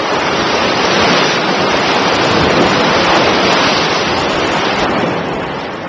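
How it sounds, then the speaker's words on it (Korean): Heavy sea waves surge and crash inside a high, narrow coastal gorge beneath the Hongryeonam cave hermitage at Naksansa, a loud continuous churning roar with no break, easing slightly toward the end. "용이 트림하는 듯한 고유의 파도 소리가 듣는 이를 압도하고"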